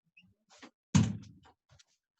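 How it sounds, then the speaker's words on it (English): A door is pushed shut with a single soft thump, close by in a quiet room, with faint rustling before and after. "I'm going to go close my door real quick"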